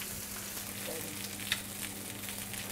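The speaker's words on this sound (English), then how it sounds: "Look at the way it's sizzling beautifully. Just in its own fat." Steady crackling sizzle of steak frying in its own fat, continuous and close, with a small pop partway through.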